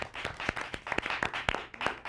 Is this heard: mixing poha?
no